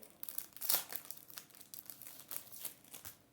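A football card pack's foil wrapper is torn open with crisp crinkling and a sharp rip near the start, followed by lighter rustling handling, close and fairly quiet.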